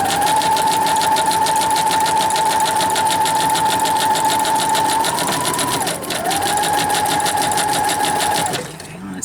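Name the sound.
sewing machine stitching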